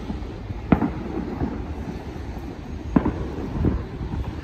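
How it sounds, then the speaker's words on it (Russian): Festive fireworks salute going off outdoors on a spring evening, a few distant sharp bangs spaced apart over steady wind noise. "и уже вот этот вот салют будет виден."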